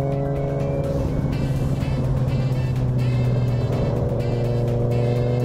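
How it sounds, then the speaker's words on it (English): A motorcycle engine running during a night group ride, a steady loud droning hum with shifting pitch as it moves along, heard up close without talk. "And his bike sounds really good."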